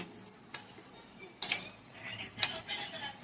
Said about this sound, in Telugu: స్లోగా కలపాలి, ఎక్కువ కలిపేయకూడదు.